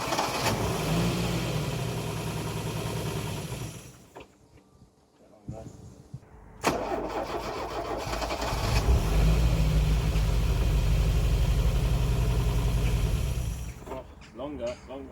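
A Porsche 924 that has sat unused for over 30 years cranks and catches twice, idling and revving roughly in between, with a brief quiet pause mid-way and the engine dying out at the end.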